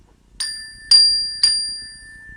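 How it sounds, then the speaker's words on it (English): A chime is struck three times at even intervals, each loud, clear ring holding several bright tones and fading slowly, with the last ring left to decay. "This is my chime. It sounds like this."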